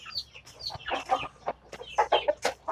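Bangkok chickens, young birds and breeding hens, cluck in a poultry house, a quick run of close, uneven clucks and squawks in short bursts with no talk.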